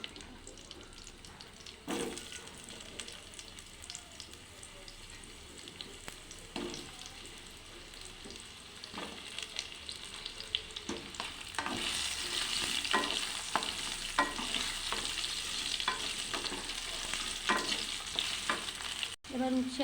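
Potatoes hit hot oil tempered with five-spice and bay leaf for a Bengali niramish sukto, a steady sizzle that builds louder partway through, with scattered stirring scrapes and no talk.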